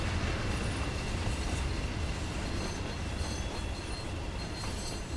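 A Class 31 diesel locomotive in the Train Sim World 2 game rolls along the Tees Valley Line, a steady dense rumble of engine and wheels that holds unchanged throughout.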